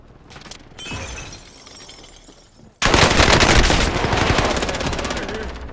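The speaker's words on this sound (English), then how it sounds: "I got the minigun. I'm gonna blast their ass." Minigun firing in Call of Duty: Modern Warfare, a dense continuous stream of rapid shots that starts abruptly and stays loud to the end, after a quieter stretch of game noise.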